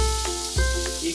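Smash burgers sizzle loudly on a Ninja Woodfire grill, a close, continuous hiss with a few brief pulses and no talking.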